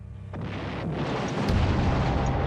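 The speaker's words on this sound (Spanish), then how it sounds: "La explosión que estáis viendo es solo una parte del área en la que morirías." Artillery shells explode in a sustained, loud roar: a heavy blast opens, a second deep boom lands about a second later, and rumbling debris and fire noise fill the rest without pause.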